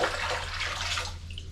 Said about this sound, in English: Okay, let's just drain it all out.